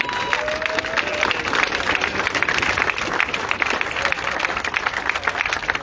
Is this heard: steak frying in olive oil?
no